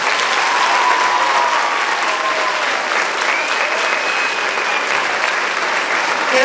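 An audience applauds after a school production of the musical Grease at IES Francisco Salzillo, steady, dense clapping from a large crowd filling the hall without a break, with a few faint whistles and cheers.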